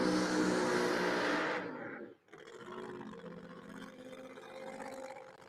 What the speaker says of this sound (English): That supercharged Hemi underneath that 69 Camaro body sounds like it's feeling pretty good